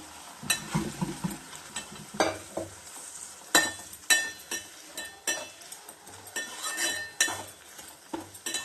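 Boiled country chicken sizzles in frying ginger-garlic paste while a metal spatula stirs it, giving repeated rhythmic clinks and scrapes against the pan over a constant close sizzle, with no one speaking.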